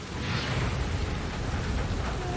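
Rain falls in a movie scene from the 2017 film It, a steady, fairly loud wash of downpour with low rumbling underneath and no talk.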